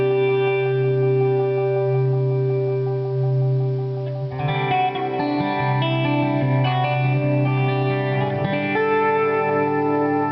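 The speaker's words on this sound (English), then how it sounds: "This is that same effect I just had, delay and reverb, but with a slow Leslie on it." A guitar runs through a Damage Control Glass Nexus effects unit set to delay and reverb with a slow Leslie, playing held chords that shimmer and swirl, then a busier passage of echoing notes, loud and continuous.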